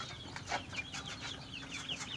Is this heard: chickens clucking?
yes